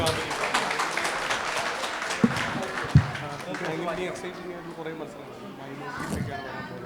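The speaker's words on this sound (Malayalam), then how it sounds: "ഒരു നല്ല കൈയടി കൊടുക്കുക." A crowd at a memento distribution and guest event breaks into steady applause lasting several seconds, broad and moderately loud, with a couple of sharper claps and background chatter mixed in.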